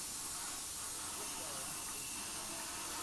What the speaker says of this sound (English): we've got the hot air blower on, we've got the heat gun there, we've got the infrared heater as well working away